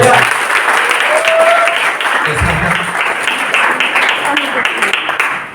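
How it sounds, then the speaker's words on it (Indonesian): Audience applause at a Christian church worship session, a steady wash of clapping filling the clip at moderate loudness with some voices mixed in. "Berikan tepuk tangan."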